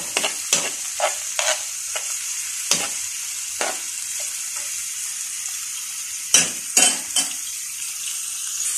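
Onions frying in butter and oil in a pan, with a steady hiss of sizzling broken up by repeated sharp scrapes and clinks of a spatula stirring against the metal. Nobody speaks.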